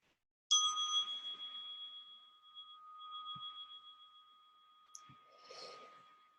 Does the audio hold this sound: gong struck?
yes